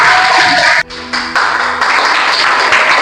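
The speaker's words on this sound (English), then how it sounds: "Clap for him." Audience clapping for a third-place competition winner at a prize event, a loud dense wash of hands that dips briefly, then resumes steadily.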